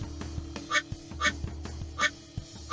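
Cartoon duck quacks from a Paw Patrol water park video game sound four times at a steady rhythm over bright looping game music.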